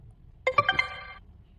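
A phone's message notification chime plays four quick ascending tonal notes that ring out briefly and fade, clear and close over a quiet room hum.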